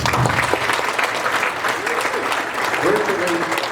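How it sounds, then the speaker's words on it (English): A crowd gives a sustained round of applause for Kwan at an evening Lunar New Year presentation, dense clapping filling the room steadily with faint voices underneath. "Let's give a round of applause for Kwan"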